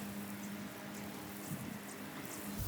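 A light, steady hiss of water sprays gently over freshly seeded garden soil, soft and continuous with a faint low hum underneath.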